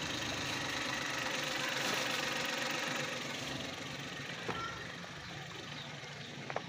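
A Suzuki DA64 engine idles steadily while overheating because its radiator fan motor will not spin. The engine gives a low, even hum heard close but fairly quiet, with a couple of faint clicks near the end and no talking.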